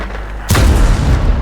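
A tank in the World of Tanks video game fires a high-explosive shell: one sudden, loud, deep cannon blast followed by a sustained rumbling roll that stays strong to the end, with no talk over it.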